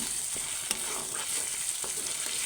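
Ginger-garlic paste frying in a pan for a fish curry, with a steady close sizzle and a few sharp scraping strokes of stirring, no voices.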